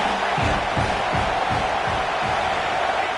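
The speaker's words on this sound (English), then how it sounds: "Home crowd trying to make a difference on 4th down." Home crowd in a stadium at a football game, a broad sustained roar of cheering and noise with rhythmic pulses of chanting or stomping, steady and distant-sounding throughout.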